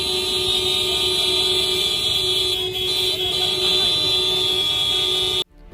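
Loud, sustained vehicle horns blare continuously in a dense chorus at a protest in Singrauli, India, several honking together without pause, then cut off abruptly at the end.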